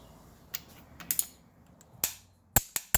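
Ratchet clicking while torquing bolts during assembly of a Ford FE390 engine: a few scattered short sharp clicks and ticks, with a tight cluster of three louder snaps near the end, close and alone against a quiet background.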